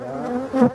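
Agitated honey bees buzz loudly and close at the hive while honey is harvested from angelica flowers, a steady droning hum rising in pitch and intensity near the end.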